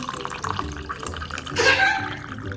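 Water is poured into a glass holding lemon slices, mint leaves and chia seeds, giving a soft trickle then a brief louder splashing fill near the end, fairly faint overall.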